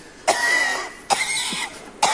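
Three evenly spaced harsh coughs, each a raspy burst about a second long, close and fairly loud, with short pauses between them and no talking.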